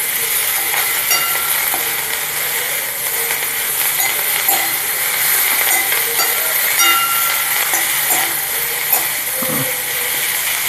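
A herb and podi mixture is stirred in a hot pan for ghee roast podi masala dosa, producing a continuous, fairly loud hiss with light crackling and faint scraping throughout.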